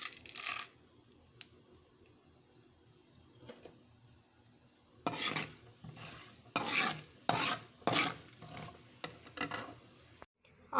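Tempering seeds dropped into hot oil after chana dal has been fried, starting as a quiet faint sizzle and then turning into bursts of stirring and rattling against the pan.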